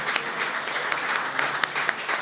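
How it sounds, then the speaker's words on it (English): An audience claps for Korean War veterans at a National Military Appreciation Month ceremony, a fairly soft, even wash of many hands with a few sharper individual claps popping out. "How about a round of applause for these great guardians up here?"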